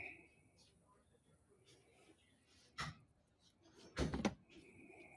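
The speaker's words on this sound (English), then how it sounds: "I said close the door, bro." A door being shut indoors: a short thud, then a louder, longer bang about a second later, over quiet room noise, with faint voices nearby.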